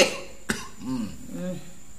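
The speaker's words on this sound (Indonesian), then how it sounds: "Mulai tadi sore aku tuh batuk." A single short, sharp cough close by, followed by soft murmuring and faint vocal sounds.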